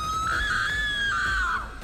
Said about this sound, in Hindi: जोर से चिल्लाती है